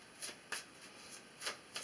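Tarot cards are shuffled and drawn, giving several soft, papery riffling bursts spaced unevenly across a quiet background, close to the listener.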